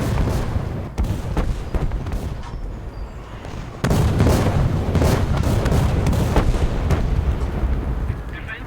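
Artillery strike in War Thunder tank combat, a dense barrage of booming impacts and blasts that swells sharply partway through and keeps rumbling loudly with scattered sharp cracks, with a voice talking at times.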